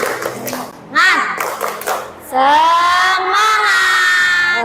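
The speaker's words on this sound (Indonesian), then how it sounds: "Ayo tepuk semangat." Children in an Islamic religious education class run through a rhythmic spirit-clap routine, with loud, close bursts of clapping mixed with their chanting voices.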